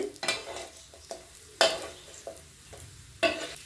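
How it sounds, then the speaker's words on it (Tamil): Raw banana slices fry in a pan for vazhakkai varuval, a constant sizzle broken by several sharp scrapes and clinks as the slices are stirred and turned. "ரெண்டு பக்கம் மாற்றி மாற்றி நல்லா ஃப்ரை பண்ணி எடுத்துக்கோங்க"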